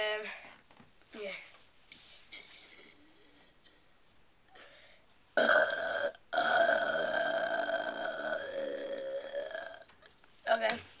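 A person burps loudly and long, a sustained throaty belch lasting several seconds, with a few shorter burp-like sounds before it and another brief one at the end, close to the listener with no speech.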